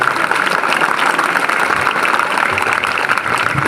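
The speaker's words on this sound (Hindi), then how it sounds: "एक बार बजा दो जोर से तालियां" Loud, dense clapping from a large youthful crowd at a patriotic poetry recitation, steady and sustained throughout with no voices over it.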